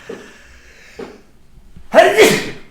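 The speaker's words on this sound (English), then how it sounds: "Hang on, I just need to sneeze, I think." A single loud sneeze bursts out after a couple of short breathy sounds, close and sudden.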